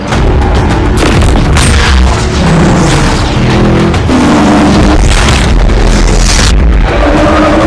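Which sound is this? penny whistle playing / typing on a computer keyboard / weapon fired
weapon fired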